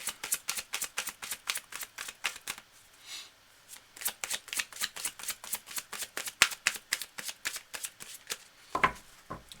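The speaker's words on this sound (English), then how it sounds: "Cards are well shuffled." A deck of Romance Angels tarot cards being shuffled by hand, close and crisp, with repeated quick riffling bursts in a steady rhythm and a few brief pauses between rounds.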